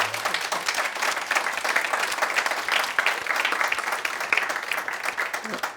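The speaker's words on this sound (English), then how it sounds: "please join me in giving a huge round of applause to Brad" An audience at a readers and writers festival gives a hearty round of applause, dense continuous clapping for several seconds with a little crowd murmur underneath.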